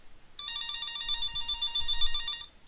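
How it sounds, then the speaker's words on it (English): A telephone bell rings steadily in the background for about two seconds with a bright, even buzzing trill, heard during a StarCraft match on Shakuras Plateau while no one speaks. "And that would be a phone,"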